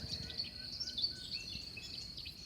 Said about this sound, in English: as do the cicadas you can hear in the background